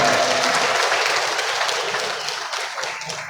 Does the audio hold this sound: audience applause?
yes